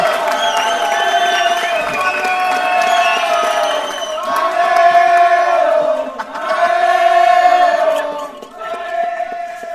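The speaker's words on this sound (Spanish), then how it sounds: "Fuerte un aplauso" A large crowd at a playful school-style Olympic games event cheers, whoops and shouts loudly in sustained waves, with applause mixed into the roar throughout.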